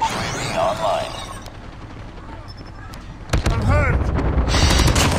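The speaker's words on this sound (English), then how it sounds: "Am I getting shot by a turret or something, man?" Turret gunfire in Call of Duty: Mobile hammers in as loud, rapid automatic bursts near the end, after a quieter stretch of distant shots, whooshing effects and game noise.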